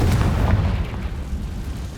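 A Confringo fire spell exploding in the Hogwarts Legacy video game, a loud deep boom with a rumbling burst that fades slowly over two seconds.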